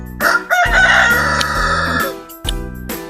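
A rooster on a roadside provincial farm crows loudly and close, a long drawn-out call followed by the start of another crow.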